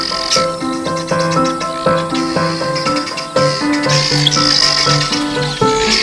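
A flock of about twenty guineafowl walking toward water in the African wild keeps calling, with rapid, repeated, harsh overlapping chattering notes close by and a constant insect buzz behind.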